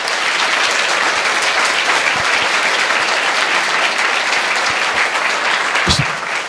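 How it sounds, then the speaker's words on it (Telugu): Loud, sustained applause from a large audience at a college talk, dense and even throughout with no break, plus a few sharper individual claps near the end. "గట్టిగా అందరూ కూడా చప్పట్లు కొట్టి ఒకసారి"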